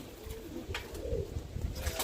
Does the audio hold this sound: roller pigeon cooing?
yes